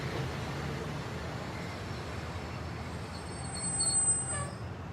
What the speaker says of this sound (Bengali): বর্ধমান হয়ে যখন আমাদের ট্রেন সাঁইথিয়া পৌঁছলো